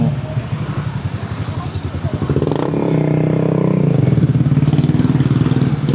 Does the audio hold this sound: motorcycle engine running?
yes